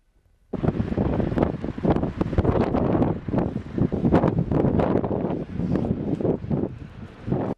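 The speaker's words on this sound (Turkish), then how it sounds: "Biraz rüzgarı dinleyelim." Steady, loud wind buffeting the microphone, with gusting surges and rumbling low-end roar that continues throughout without any voices.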